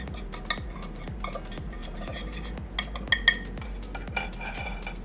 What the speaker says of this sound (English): go ahead and mix those ingredients together